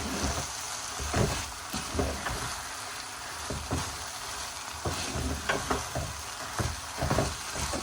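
Fried okra and onions are stirred in a hot pan of masala bhindi, a steady sizzle under repeated spatula scrapes and knocks, close and alone.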